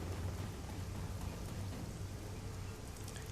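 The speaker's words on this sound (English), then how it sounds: "Despite the wind and rain pelting Hoi" Ambient wind and rain in the video game Shadowrun: Hong Kong, a faint, steady hiss of rainfall with a low rumble underneath, continuous and without speech.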